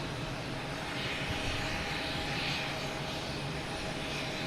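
A JetBlue Airbus A220 jet arriving from Norfolk roars steadily on approach at Boston Logan, a broad continuous engine rush with no voices.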